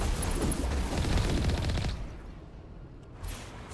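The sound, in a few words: rockets and gunfire in the video game Mass Effect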